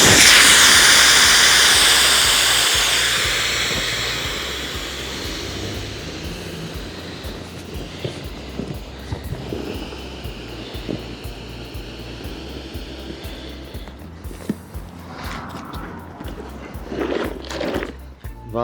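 A rechargeable electric pump inflating a GoPlus drop stitch kayak: a loud, steady airy hiss and motor drone that eases slightly over time, with some handling knocks toward the end.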